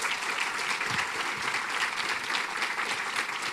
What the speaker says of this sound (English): Let's have a round of applause for these amazing ladies.